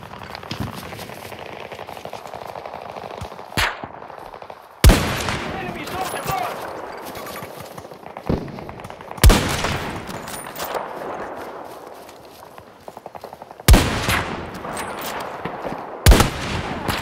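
Battlefield sniper gameplay gunfire: sharp, loud single shots at irregular intervals, about six in all, cracking over a busy battlefield ambience with faint voices.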